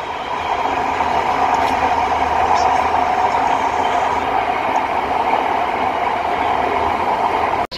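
Steady loud rumble and rushing roar of a driverless Istanbul metro train moving through a tunnel, continuous throughout with no pauses.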